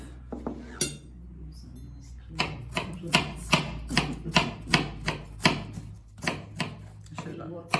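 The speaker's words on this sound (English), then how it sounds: "So cut it very thin with a sharp knife." A sharp knife slices cabbage thinly for sauerkraut, producing a run of crisp, regularly spaced chopping strikes against a board, close and distinct, with a low hum underneath and a quieter stretch at the start.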